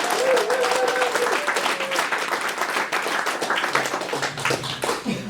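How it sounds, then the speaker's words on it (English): An audience at a football club chairman's evening event breaks into applause, loud, close clapping with individual claps audible that gradually thins out, with brief crowd murmur underneath. "So a big round of applause, I think."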